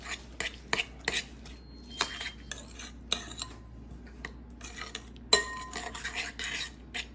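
Tartar sauce of mayo, pickle and onion being stirred in a bowl with a utensil, with irregular scraping and clinking strokes close by, one sharper knock partway through, and no speech.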